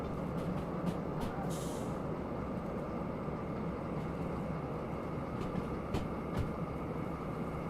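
Freight train in the Derail Valley simulator game rolling under light braking, a steady loud rumble of wheels and cars throughout with faint brake hiss and occasional clicks on top.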